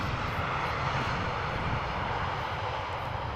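An airplane comes in to land on the center runway at Amsterdam Schiphol Airport, its engines a steady, broad roar that stays loud and unbroken throughout, with no voices.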